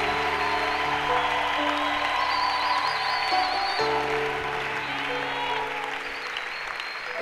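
A church congregation applauding in praise of the Lord, sustained loud clapping with crowd murmur and music tones underneath, continuous over several seconds.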